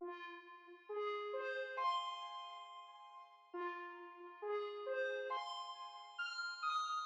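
A plucked synth loop with reverb, chorus and halftime plays as slow stepped notes that repeat with a long shimmering tail, clean and moderately soft, with no voice.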